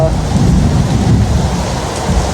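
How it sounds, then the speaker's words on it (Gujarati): Heavy rain pours down in a loud, dense roar, with a deep rumble of thunder rolling underneath and no clear break in the downpour. "હાલના વરસાદ ચાલુ થયો, જબરજસ્ત પડે વરસાદ. ગાજે છે ને વરસાદે પડે."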